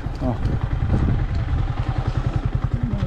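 A motorcycle idles at Manungkot after a long ride, a steady low rhythmic throb close by that continues under people talking.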